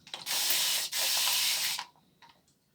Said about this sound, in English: Just a couple of more sprays to see how we can get more hydration